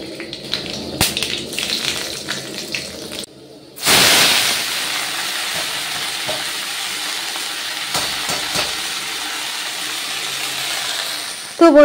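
Radish greens sizzle and hiss in a hot pan, a steady broadband frying crackle with a loud burst as they hit the oil, then continuing evenly with occasional clatter, no talk.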